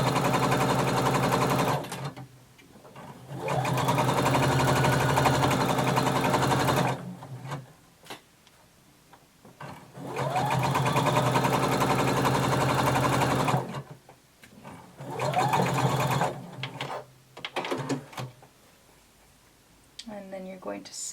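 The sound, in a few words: sewing machine sewing side seams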